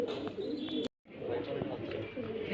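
Pigeons kept for sale in Beldanga, West Bengal coo softly and repeatedly in a steady murmur, broken by a brief silent gap, with a few chirps mixed in.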